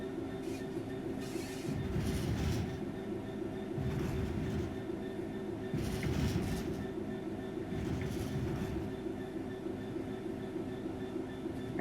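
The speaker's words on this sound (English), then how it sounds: "The train will then coast on level ground, and the train will only slow down very gradually." Train coasting on level track in the Train Sim World 3 simulator, a steady rolling rumble with rhythmic swells of wheel noise roughly every two seconds and a faint metallic ring, no talk.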